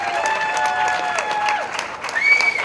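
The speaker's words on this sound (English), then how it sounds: "Let's give them a hand." Crowd at a Celebrate Peace event in Dayton, Ohio giving children a hand, heard as a short burst of close, steady clapping with some tonal crowd noise mixed in.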